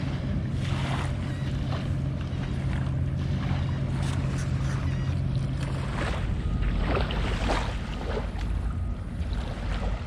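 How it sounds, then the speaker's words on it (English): A small shrimp boat passes on the water, its low engine drone steady and continuous for about ten seconds under heavy wind noise and lapping water. "Got us a little shrimp boat going by."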